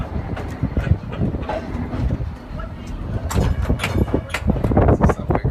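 A trolley car coasts along rails at a trolley museum, with rhythmic clicking and clunks of wheels over track joints, close and fairly loud, while people talk.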